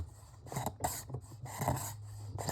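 A hand scraper drawn over the glued edges of a handmade ukulele body gives soft, raspy strokes in a few short bursts, close up, with quiet gaps between passes and a low hum beneath.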